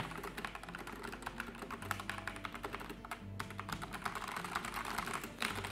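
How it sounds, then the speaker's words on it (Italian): Steady, rapid typing on an inexpensive keyboard with quiet linear, non-clicky keys, close up, with soft even keystrokes and no speech. "Proviamo un attimo a digitare"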